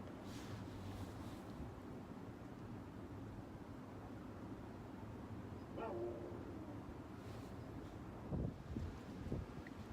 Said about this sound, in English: Kind of fighting with the wind here a little bit.